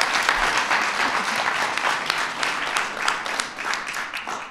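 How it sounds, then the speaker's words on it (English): A student audience at a film workshop bursts into sustained applause, with dense, lively clapping that holds steady throughout. "Let's give them a round of applause."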